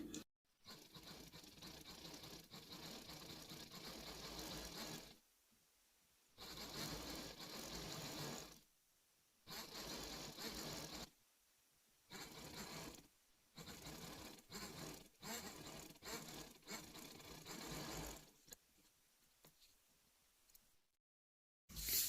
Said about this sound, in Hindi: अब हम पट्टी पे सिलाई लगा लेंगे।